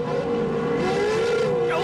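Off-road pro lite race trucks compete at a 2008 CORR event in Los Angeles, with a sustained, slightly wavering engine drone heard at a distance under an announcer's commentary.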